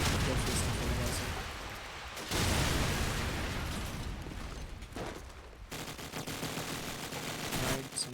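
Gunfire in a tactical shooter video game match, with dense bursts of shots and booming blasts running continuously, loud and layered, under an excited commentator's voice.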